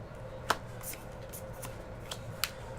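A pack of 2017 Bowman baseball cards is shuffled and handled during a hobby and jumbo box break, giving soft riffling with a few sharp card snaps, close and fairly quiet, with no talking.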